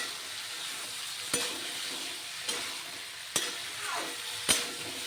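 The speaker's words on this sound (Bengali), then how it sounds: "ভালো করে কষিয়ে নেব," Pointed gourd with sesame paste sautéing in a pan, a close, steady sizzle broken by four sharp scrapes of a spatula against the pan at roughly one-second intervals, with no voices.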